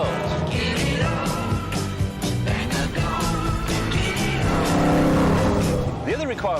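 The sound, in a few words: Mercedes-Benz 300 SL 3-litre fuel-injected straight-six engine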